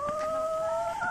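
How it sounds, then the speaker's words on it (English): A black chicken gives a drawn-out, steady two-toned call, close and clear, with no talking over it. "that is Bess the black chicken."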